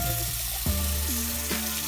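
Lukewarm water running from a kitchen tap to rinse off a coffee face mask, a steady splashing stream close by, with the pitch rising and dipping as the flow changes.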